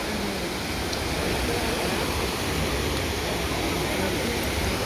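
Water of the Trevi Fountain in Rome pours and splashes in a steady, unbroken rush, heard close and evenly loud throughout, with possible faint crowd murmur beneath.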